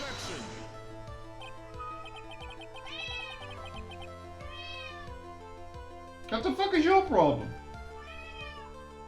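A pet cat meows several times in drawn-out, rising calls, then lets out a louder, strained yowl near the end, close by, while someone talks over it.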